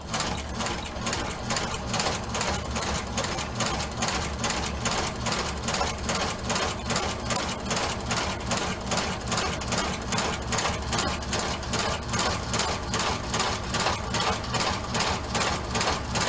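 A sewing machine having tension issues stitches a Ferragamo shoe, giving a continuous rhythmic mechanical chatter with an even pulsing beat that holds steady throughout, close and with no talking.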